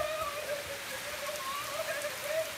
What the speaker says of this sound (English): We're gonna go out there in the rain.